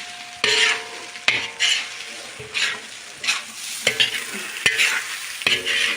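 A utensil scrapes and stirs fried rice in a hot pan, with repeated clanks against the metal over a steady sizzle of frying.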